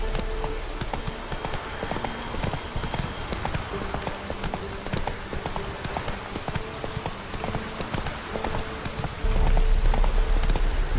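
Roach the horse gallops in The Witcher 3: Wild Hunt, a steady drumming of hoofbeats at close range that runs throughout, growing louder in the final seconds.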